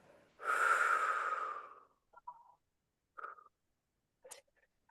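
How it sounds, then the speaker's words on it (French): A person doing an intermediate Pilates lower-body exercise takes one long, deep breath close to the mic, followed by a few shorter, softer breaths and sniffs in near silence. "Et vous me faites au moins 3, 4 respirations profondes, à votre rythme."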